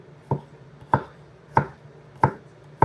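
Knife slicing through garlic on a cutting board, five sharp, evenly spaced chops about two-thirds of a second apart, close and clear over quiet background.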